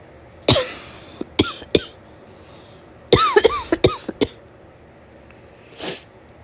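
A woman with a summer cold coughs in harsh, close bursts, a single cough, then a few quick ones, then a longer cluster of wet coughs, ending with a softer sniff or breath.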